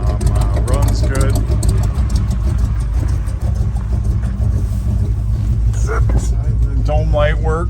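A 1983 Chevrolet Blazer with dual exhaust idles steadily and loudly up close, its engine rumble constant throughout while someone talks over it.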